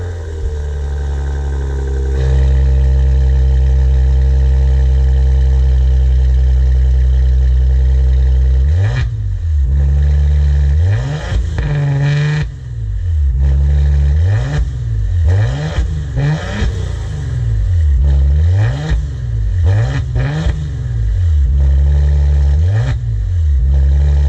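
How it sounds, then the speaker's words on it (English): A Maserati Levante SUV's exhaust, heard from inside the vehicle, starts with a steady idle, then gives a series of loud, rhythmic revs that rise and fall again and again. No one speaks. "hear that exhaust"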